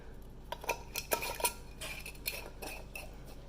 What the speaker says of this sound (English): So then you put your lid on,